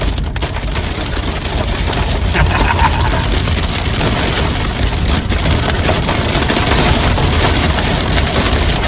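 Big hailstones pelting down hard in a thunderstorm, a loud, dense, continuous clatter and drumming on surfaces close by, with no speech over it.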